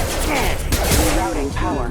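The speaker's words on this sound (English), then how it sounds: "Taking fire." Sci-fi gunfire from the video game Mass Effect 2, a dense continuous fusillade of shots and crackling impacts mixed with game effects and voices, loud and sustained throughout.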